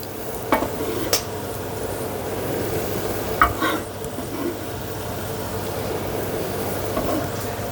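Spring onions from a garden going into a simmering mushroom and chickpea curry, a low steady sizzle and stir with a few sharp utensil clinks against the pan, close by and without talk.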